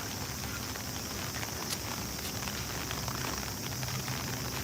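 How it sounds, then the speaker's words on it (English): Steady, dense rain pours down outdoors in Tokyo during a typhoon, a constant broadband hiss with a faint rumble beneath and no voices. "Look at the rain coming down from outside."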